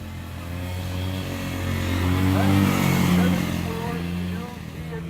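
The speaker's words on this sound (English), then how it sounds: "Next we have a 1971 Skidoo Olympic" A 1971 Ski-Doo Olympic antique snowmobile runs in an outdoor parade, its buzzing two-stroke engine tone rising and falling in pitch as it passes fairly close, with crowd and outdoor noise behind.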